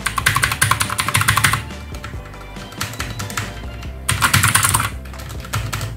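Typing on a Corsair K60 RGB Pro mechanical keyboard: two bursts of rapid, close-up key clacks with a softer patch of scattered keystrokes between them.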